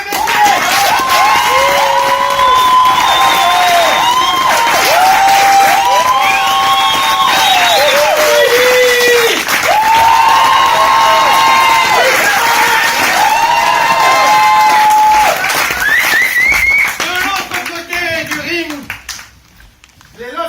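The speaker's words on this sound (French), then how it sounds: "vous allez les applaudir bien fort" A large crowd at a grand-final contest applauds steadily and cheers loudly, with whoops and shouts rising over continuous clapping before it trails off near the end.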